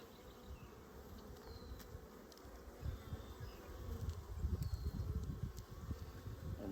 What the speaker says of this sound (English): These bees are nice and calm.